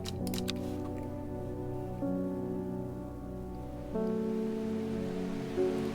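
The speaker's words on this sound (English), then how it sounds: "The rain is back. It's a rainy day." Rain falls steadily in the video game Strange Horticulture, a soft continuous patter sitting beneath sustained, layered music tones for the whole stretch.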